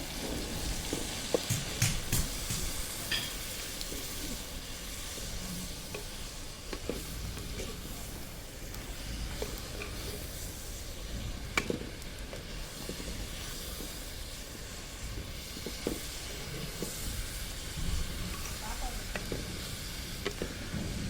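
Onions and a heap of drumstick leaves sauté in a pan of oil for a chutney, giving a steady broadband sizzle with occasional stir clicks, moderately loud and continuous throughout, with no voices.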